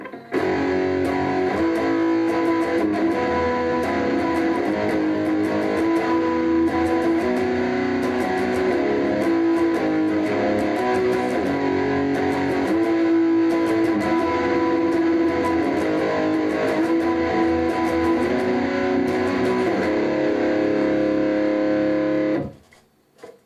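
Heavily distorted electric guitar chords strum continuously and loudly, a thick sustained wall of sound that cuts off abruptly at the end.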